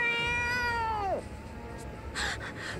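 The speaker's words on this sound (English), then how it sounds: "I thought he was a cute little kitty, but meow!" A cat in the video game Bravely Second lets out a single loud, drawn-out meow that bends downward, followed by a brief faint gasp-like sound, with no talk.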